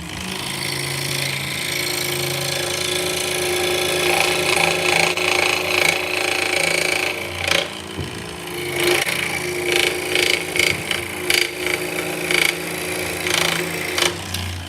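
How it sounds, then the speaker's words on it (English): A 21-inch Pegasus scroll saw cuts dyed laminated yellow birch with a rapid, buzzing reciprocating chatter and motor hum, steady at first and then breaking into short bursts and pauses; a voice is faintly present underneath. "the good old scroll saw. So this is a 21-inch Pegasus"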